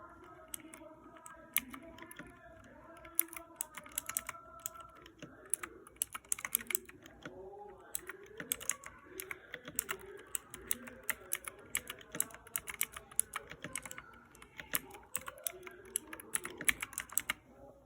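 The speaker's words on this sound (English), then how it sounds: "Now here's that with softer typing." Gentle, quieter keystrokes on a mechanical keyboard with Cherry MX Blue switches in a steady patter, close by, over faint background hum.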